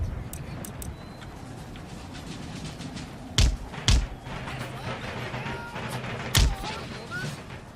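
Mortar fire in the Empire Total War video game, sharp thumping blasts landing a few seconds apart over a busy battle backdrop with someone talking.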